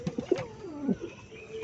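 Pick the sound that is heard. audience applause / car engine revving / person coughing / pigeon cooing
pigeon cooing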